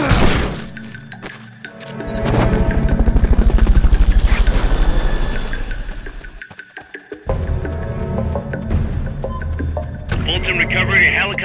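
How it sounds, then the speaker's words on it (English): A helicopter's rotor thumps steadily in Metal Gear Solid: Peace Walker, swelling loud and then fading, with game sound effects, thuds and voices over the top. "Fulton recovery subject confirmed onboard helicopter."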